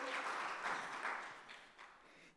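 A church congregation at an autumn revival meeting applauding, a brief burst of clapping from many hands that fades over a couple of seconds, moderately quiet.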